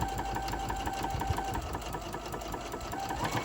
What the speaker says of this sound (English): And I'm just gonna sew on this side of my fabric, just doing a little top stitch.